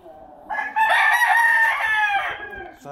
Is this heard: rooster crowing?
yes